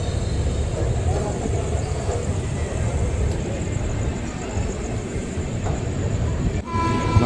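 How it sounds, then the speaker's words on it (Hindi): The Prerna Express passenger train rolls past on the line near Vadodara, heading toward Ahmedabad, as a continuous loud rumble with faint rail clatter and a brief horn-like tone near the end; a voice may be faintly audible. "सामने प्रेरणा एक्सप्रेस अहमदाबाद की ओर जा रही है"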